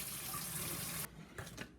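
Tap water runs into a kitchen sink while shirataki noodles are strained, a close, steady stream that shuts off after about a second, followed by a few faint clatters.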